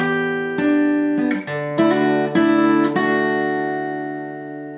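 Fingerpicked acoustic guitar plays the opening of a song, with bright plucked notes over a sustained ringing bass, flowing in a continuous pattern of picked strings, close, full and alone.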